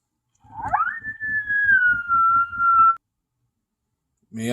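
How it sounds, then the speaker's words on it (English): Female coyote howl played through a Lucky Duck Rebel electronic predator caller: a single rising yelp that settles into a long sustained tone with a rapid pulsing buzz beneath, then stops abruptly. "Female howl."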